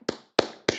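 A single person claps three times in a steady rhythm, sharp close slaps spaced evenly apart with no talking.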